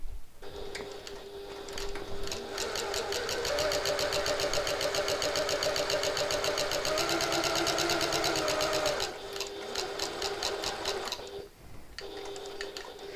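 A sewing machine stitching a reversible hobo bag into the corner at a shortened stitch length, a fast, even mechanical whirr close by that runs for several seconds, pauses briefly, then resumes.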